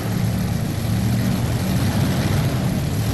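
A modified pulling tractor competes in the Mods class at a 1999 NFMS tractor pull, its engine a loud, continuous heavy roar that stays close and steady without letup.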